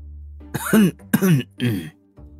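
A man clears his throat in three short, voiced bursts, close and distinct, with a fainter grunt at the end, as a character's sound in an animated fantasy series.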